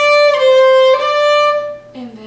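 Solo fiddle playing the old-time tune Old Melinda slowly, a few long bowed notes held close and clear, ending on a lower note.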